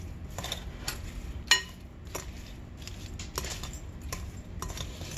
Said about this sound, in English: just going to take this old spoon and kind of just toss it back and forth